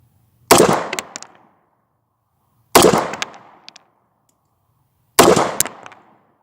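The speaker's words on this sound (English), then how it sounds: "Let's try a 6-inch plate." Three loud 9mm shots from an old Ruger P85 handgun hitting a 6-inch steel plate outdoors, evenly spaced about two seconds apart, each a sharp crack followed by a metallic ring and fading echo.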